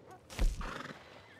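A horse in the Red Dead Redemption 2 video game gives a short, loud whinny that rises and then trails off, heard alone.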